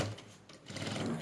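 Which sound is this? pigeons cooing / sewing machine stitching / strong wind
sewing machine stitching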